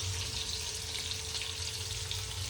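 Onion frying in oil in a pan for a home-style chicken rassa. A steady, soft hiss of sizzling runs evenly throughout, fairly quiet and close, with no talk over it.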